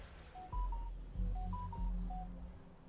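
A telephone dials in DC Universe Online, with short tonal beeps in a quick repeating pattern over low, pulsing game audio, faint and steady.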